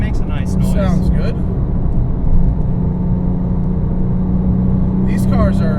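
A 2007 Porsche 997.1 Turbo with a Speedtech 3-inch exhaust all the way back idles in a steady low rumble, with people talking close by over the engine.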